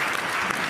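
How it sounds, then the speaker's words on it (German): Studio audience at a German television talk show bursting into dense, loud applause, a brief continuous roar of clapping. "Einmal ganz kurz einen großen Applaus."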